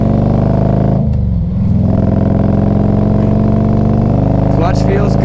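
A 1998 Harley-Davidson Electra Glide Classic touring bike runs on a test drive, its deep V-twin drone loud and continuous with a brief dip in revs, a voice speaking over it.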